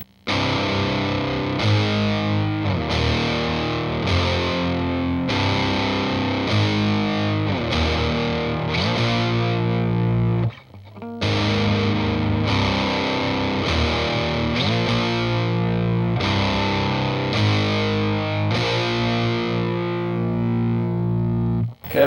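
Distorted electric guitar playing a chorus, loud, dense chugging chords that run steadily with one brief break midway, alone with no talking.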